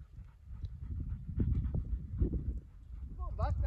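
A dog pants in rapid, close breathy bursts, with a brief whimper near the end and a person speaking softly over it.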